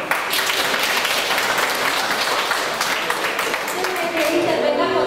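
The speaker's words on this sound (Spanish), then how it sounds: "démosle un aplauso de bienvenida" A room of people gives a welcome round of applause for a speaker at a remembrance and solidarity forum, dense continuous clapping for about five seconds, loud and close, easing slightly near the end.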